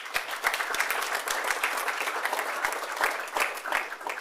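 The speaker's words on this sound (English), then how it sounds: "I just also want to give a round of applause to our first responders, our firefighters" Steady applause fills a city council meeting chamber as attendees clap for local first responders and firefighters, a dense, sustained patter of many hands at moderate loudness with no talking over it.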